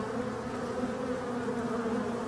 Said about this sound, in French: c'est l'abeille noire, donc elle est là